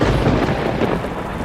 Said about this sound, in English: it started raining and thunder rumbling.